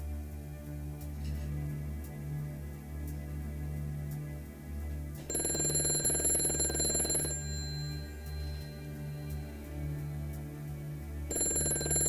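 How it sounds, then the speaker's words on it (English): A telephone rings on a live broadcast set: two bright electronic ring bursts several seconds apart over a low steady hum, moderately loud with no talking. "The phone is ringing."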